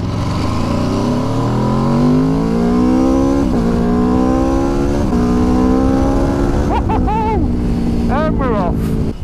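A 2021 Aprilia RSV4 Factory sports bike engine revs loud and close, pitch climbing steadily through several sharp rises and drops, then quick blips of throttle near the end.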